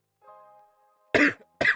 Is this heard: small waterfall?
no